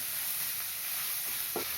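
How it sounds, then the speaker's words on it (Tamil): Cut beans sautéing in a pan for vegetable noodles, a steady close sizzle and hiss with a faint stirring scrape near the end. "பீன்ஸ் 2 நிமிஷம் வதங்கிடுது"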